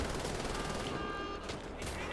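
Rapid bursts of gunfire from the video game Wolfenstein: The Old Blood, dense and continuous across the whole stretch, loud and close, with faint talk mixed beneath.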